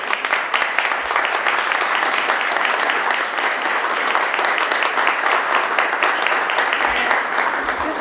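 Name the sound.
audience applause for students at a concert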